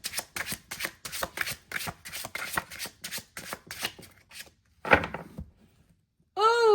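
Tarot cards being shuffled by hand in a quick run of crisp riffling bursts at a steady rhythm, close and fairly loud, ending with a single thump and a short ringing tone, with no talking.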